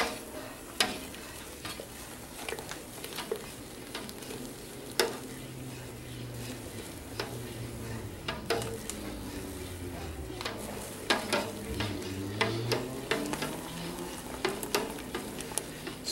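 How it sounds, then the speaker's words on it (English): A home brew mixture being stirred in a pot, with repeated scraping and clinking strokes over a steady background hiss, close and moderately loud, without speech. "just gotta keep stirring the stuff."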